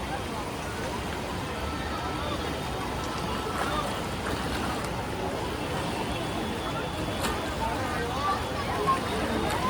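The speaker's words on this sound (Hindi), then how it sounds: "किस तरीके से रैपिड उठ रही हैं इस गंगा जल में" The Ganges in flood at Rishikesh rushes past in rapids beside a ghat, a dense continuous roar of churning water heard steadily and fairly close, with faint background voices.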